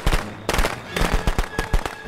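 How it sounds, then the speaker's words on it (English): Firecrackers go off in the Friday the 13th video game, a rapid string of sharp cracking pops in quick succession, loud and close with no talk. "Here's some firecrackers"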